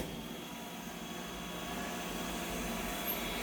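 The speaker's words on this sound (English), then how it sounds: "So, this is my robot vacuum." An iRobot Roomba i3 robot vacuum runs with a steady, even broadband whir and low motor rumble, close and continuous without pause.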